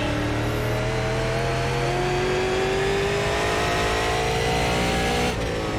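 Super Late Model race car at Stafford Speedway in iRacing, its engine droning loud and steady with a slowly rising whine as it accelerates, cutting off near the end.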